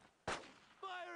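A single sharp, loud gunshot in the World War II shooter Brothers in Arms: Road to Hill 30, decaying quickly, followed by a faint tonal game sound.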